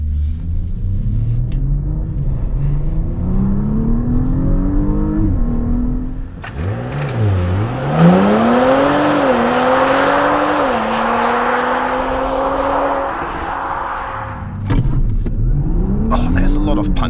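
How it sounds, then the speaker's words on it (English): 2025 Audi S5 with 367 hp accelerating hard on a country road, engine droning and climbing through several gear changes in rising sweeps, loud and steady from inside the car, with a voice briefly heard. "we'll kick it off with an acceleration here on the country road"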